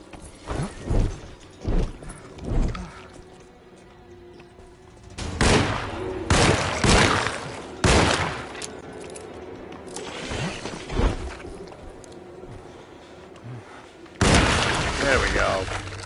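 Gunfire from shooting at enemies in the Alone in the Dark video game: loud, sharp shots fired in irregular clusters with short pauses between, close and punchy over game ambience.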